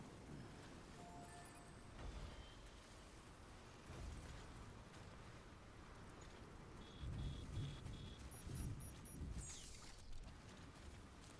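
Steady rain patters under low rumbles of thunder in the video game Death Stranding, with a few faint electronic tones and chimes mixed in, quiet and continuous.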